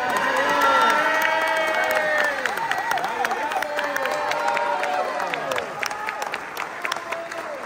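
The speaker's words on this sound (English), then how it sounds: "I know that all of you will join me in a thunderous round of applause" An audience at the SKAL General Assembly 2022 in Croatia breaks into loud, sustained applause and cheering for the association's president, dense clapping with whoops and shouts throughout, gradually thinning toward the end.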